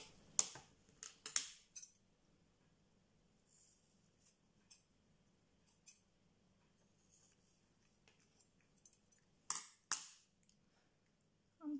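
Scissors snipping colored thread on a handmade earring, a few sharp quiet clicks near the start and again later, close and faint against near silence.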